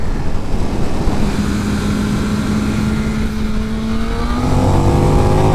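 A KTM 1390 Super Duke twin-cylinder motorcycle accelerates up a hill climb course, its loud engine note rising steadily in pitch, with a gear change near the end and the roar continuing, no talking.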